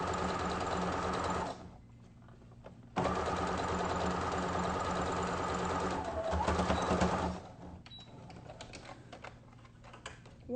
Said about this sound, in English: now I'm just going to fold in the two long edges and sew those in place as well